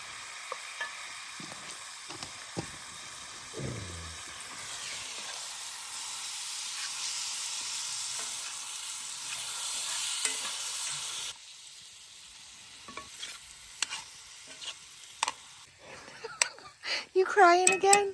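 Chicken simmers in barbecue sauce with caramelized onions, giving a steady broadband sizzle and hiss with stirring scrapes and a voice now and then; the sizzle thins after about eleven seconds and ends with louder clatter.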